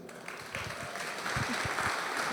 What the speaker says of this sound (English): One more round of applause for the final session of today.